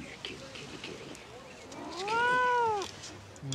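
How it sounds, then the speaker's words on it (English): A cat at a crime scene, inside a car, gives one drawn-out, rising-and-falling meow near the middle, clear over a low hum and faint background noise. "Come here, kitty, kitty, kitty."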